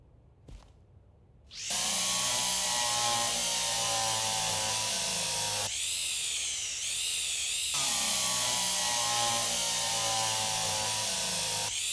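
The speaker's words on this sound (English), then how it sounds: "So, I'm going to go ahead and drill that in here." A power drill whirs loudly and continuously in the Derail Valley train simulation game, starting after a brief click and briefly dipping in pitch mid-run as a part is drilled into place.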